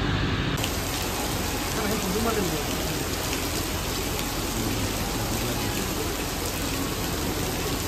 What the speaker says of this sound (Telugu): ఫుల్ రైనీ, డార్క్ క్లౌడ్స్ వచ్చేసినాయి.